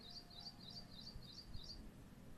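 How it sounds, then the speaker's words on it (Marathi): A single bird repeats a quick, high chirping phrase about six times in a steady rhythm, faint and distant over quiet background hum. "बाहेर बघा पक्षी पण बोलतात ते"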